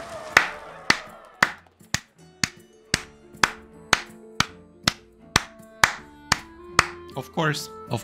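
A clapping sound effect from the Hearthstone card game: about fourteen crisp, evenly spaced claps arrive at a brisk, regular pace, loud and close, ending with a brief burst of tonal game sound.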